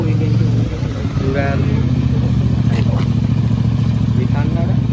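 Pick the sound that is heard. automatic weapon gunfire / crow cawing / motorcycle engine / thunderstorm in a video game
motorcycle engine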